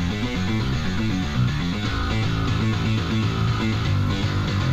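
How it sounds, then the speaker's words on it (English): A heavy, distorted metal bass guitar chugs through a steady riff from a video game battle theme, dense and loud with a gritty edge, playing continuously without any voices. "I love that bass sound, it's really gnarly."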